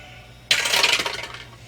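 Dice rattle and tumble across a table during a tabletop role-playing game. A sudden bright clatter settles into quick rolling clicks that fade over about a second, close by, with no talking.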